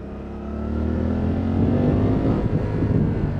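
Suzuki V-Strom 800 RE motorcycle engine running steadily while being ridden, a close, continuous droning hum with harmonic tones that shift slightly as engine speed changes, heard alone without talk.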